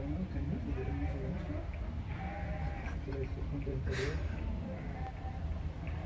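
Sheep bleat in a herd along a running route at a Munich charity run, their calls mixed into constant crowd and outdoor noise with people talking nearby.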